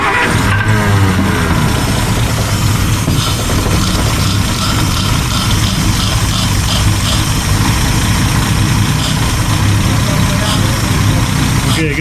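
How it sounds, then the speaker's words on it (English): A 1949 Plymouth Special Deluxe, stored for twelve years, cranking, catching and settling into a loud, steady idle that runs without a break, with a low rumbling throb close by. "Go ahead and crank it when you're ready."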